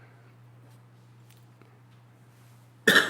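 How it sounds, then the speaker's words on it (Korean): A single loud cough bursts out near the end, close to the microphone, from a preacher delivering a sermon, after a stretch of near-quiet room hum. "이게 기침이 좀 잘 안 떨어지네요"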